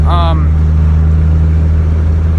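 A 2002 Ram 2500 with the 5.9 Cummins diesel drives along with a loud, steady low drone from inside the cab, and a brief high chime sounds at the very start.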